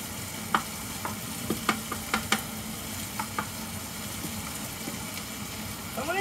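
Onions stir-frying in a hot pan for kimchi fried rice give a steady sizzle, punctuated by sharp clacks of a spatula against the pan clustered in the first few seconds, with no voices.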